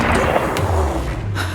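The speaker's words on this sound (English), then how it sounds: "And she opens fire." Gunfire in a true-crime retelling of a woman shooting a man on a stairway: dense, noisy bursts with broadband impulses, loud and close, filling the moment without speech.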